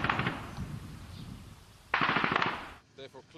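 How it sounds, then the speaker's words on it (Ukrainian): Machine gun fire in rapid bursts, one at the start and a louder, closer burst midway, followed by a few scattered shots, with a faint voice murmuring underneath. "ворог веде провокаційний вогонь з кулемета"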